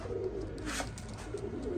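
Low, throaty cooing from a nearby Teddy pigeon, a continuous soft burbling call over a quiet background.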